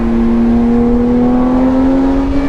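Porsche 911 GT3 RS engine accelerating hard from inside the cabin, a loud steady high-pitched whine with its pitch climbing gradually, with no talk over it.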